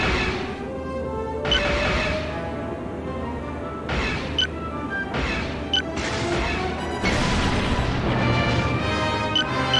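Ship weapons blast floating junk in the X-wing Alliance space combat game, a dense run of booming, crashing explosions with sharp laser-like bursts layered over a continuous rumbling engine drone.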